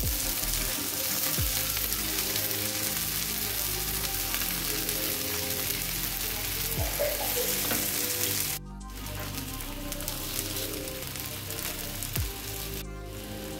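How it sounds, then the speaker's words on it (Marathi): Steady, close sizzle of potato-poha cutlets shallow frying in hot oil over a low flame, a continuous crackling hiss with a few soft low knocks from the pan. "आपण हलक्या आगमध्ये फ्राय करून घेऊया"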